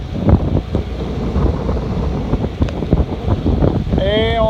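Strong wind buffets the microphone over rushing water and waves aboard a sailboat in a Force 6 headwind off southwest Lesbos, loud and constant, with creaks and a brief whistling tone near the end.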